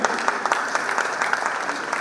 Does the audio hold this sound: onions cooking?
no